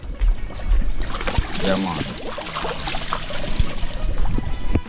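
Running water trickles and splashes while a plucked chicken is washed, a continuous pouring stream with handling noises, and a person speaks briefly over it.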